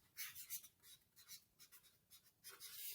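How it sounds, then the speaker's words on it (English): Pen or marker scratching out a single word on a card in a quiet classroom, a run of short strokes and squeaks with brief pauses between them, close and fairly soft. "get a card, and write space on it"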